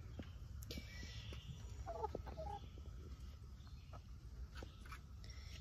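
A pet chicken named Torchic clucks softly in a few short bursts, close by amid faint background noise and rustling.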